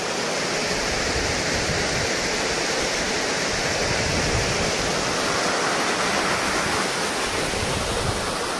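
Tambdi Surla waterfall in Goa roars as a steady, dense wash of falling water, loud and unbroken throughout with no voices over it.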